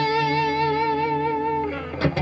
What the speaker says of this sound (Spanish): el efecto de la distorsión.